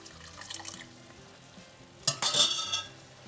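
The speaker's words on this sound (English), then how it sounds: "You can see when it's bubbling like this is when you can add the more stock." Seafood risotto simmering in a pan, with stock bubbling and sizzling and a stirring scrape, a louder burst of sizzle near the end.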